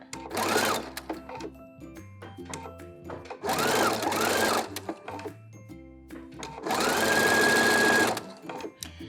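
A sewing machine stitches elastic around the edge of a handmade bralette in three loud, close whirring bursts, with quiet pauses between runs as the fabric is turned.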